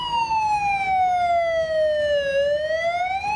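A Land Rover converted into an ambulance sounds its siren, one loud, close electronic wail sweeping smoothly down and then rising again.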